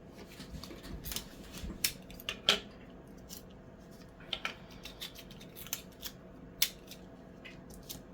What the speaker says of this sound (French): je vais juste couper le washi comme ça